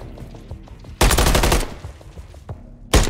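Call of Duty gunfire sounds in two loud bursts of rapid automatic shots, one long and one short, separated by quieter background game noise.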